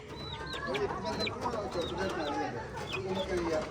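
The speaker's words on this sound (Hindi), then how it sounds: "ये मुर्गी है" A hen in a village with her chick clucks and calls repeatedly, short rising notes scattered over a busy background of voices and other chickens.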